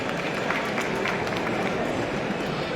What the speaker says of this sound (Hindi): तो इसके लिए भी एक बार जोरदार तालियां हो जाए।